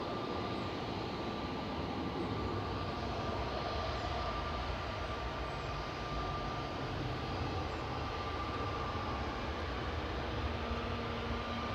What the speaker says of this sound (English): So that's SERFZ just rolling out on the Swedish register for TUI Fly Nordic